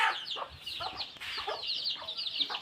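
A domestic village hen clucks repeatedly in short, close bursts, with soft chicken calls continuing throughout and no talk.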